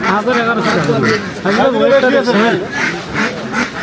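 Ducks quacking at a duck market in Beni Hat, sounding close and steady throughout, mixed with people talking over the birds.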